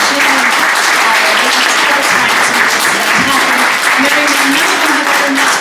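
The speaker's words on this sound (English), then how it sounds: "if you guys will give me a round of applause to Melissa" A legislative summit audience gives a loud, close, continuous round of applause with a dense, even texture that holds steady throughout, while a voice murmurs faintly beneath the clapping.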